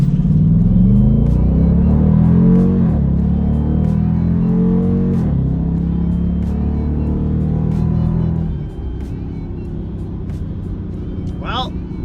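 Supercharged Jeep SRT8 engine roars hard through a 0 to 60 run, a loud, close, sustained rising drone with gear-change dips, easing to a lower rumble near the end.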